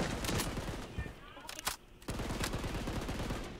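Rapid bursts of sniper and automatic gunfire from the BloodStrike video game crackle densely and loudly across the whole moment, with a brief lull midway before the shooting resumes; voices speak faintly underneath.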